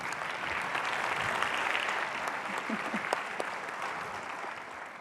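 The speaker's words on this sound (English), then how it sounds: "Thank you for the thunderous applause." Audience at the Gainsight Pulse Europe 2025 business conference clapping steadily, a dense continuous wash of applause from a large crowd that holds for several seconds.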